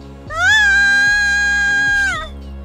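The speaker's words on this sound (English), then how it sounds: "It's our pet. It's named Cat." A pet cat gives one long, loud, drawn-out meow close by, rising then holding steady before trailing off over quiet background hum.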